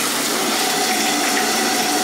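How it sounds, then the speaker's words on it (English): Water gushes steadily from a shower faucet that won't shut off, a loud, close, unbroken rush of running water with no voices. "So what I'm gonna do is turn on the water for a second"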